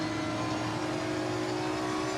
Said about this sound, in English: you can hear the transmission, everything hitting the underside of your car, the brakes